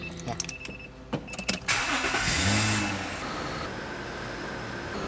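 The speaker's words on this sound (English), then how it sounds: "He started the engine." A car engine cranks and catches after a few clicks and a door thud, then settles into a steady idle, close and fairly loud.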